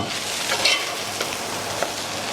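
Oats stirred into a pot of chicken shorba, giving a steady close scrape and swish over a soft simmering hiss for a couple of seconds, with a few brighter clinks, and no talking.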